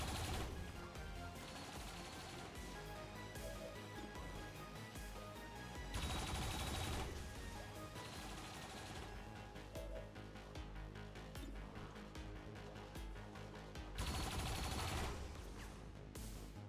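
Sustained bursts of rapid gunfire from XCOM 2 with the Long War of the Chosen mod, loud and continuous with heavier volleys layered in, no voices.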